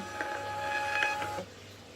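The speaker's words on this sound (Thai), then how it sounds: "อันนี้นะคะสามารถพิมพ์ใบปะหน้าจากเว็บ Lazada ได้โดยตรงเลยนะคะ" A thermal label printer runs briefly as it prints a shipping label: a steady whirring feed with faint tonal whine for about a second and a half, then stops, leaving quiet room tone, with no talking.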